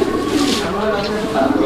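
A male pigeon coos loudly and close by in a rolling, repeated murmur lasting under two seconds.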